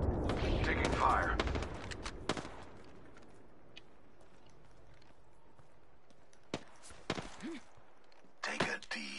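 Video game gunfire opens with a dense, close volley, then fades to sparse, scattered shots and clicks against a quiet background.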